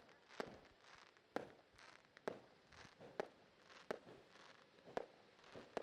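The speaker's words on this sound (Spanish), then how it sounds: "as the fireworks continue to go off" Fireworks bursting behind the track at a 30-hour endurance karting race in Campillos, a regular series of sharp bangs about one per second, each followed by crackling, moderately distant with no talk.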